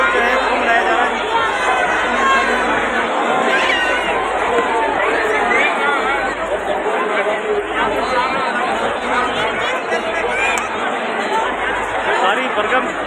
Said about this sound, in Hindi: सारी भरकम भीड़ यहाँ पर धीरे धीरे आती जा रही है